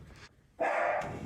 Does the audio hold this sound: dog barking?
yes